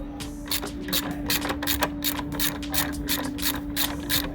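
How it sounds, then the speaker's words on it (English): A ratchet with a 12mm socket and extension clicks rapidly while loosening a battery bracket bolt on a 2015 Hyundai diesel, a close, even series of sharp ticks with a faint steady hum beneath. "12mm socket ratchet extension. Take the bracket off for the battery."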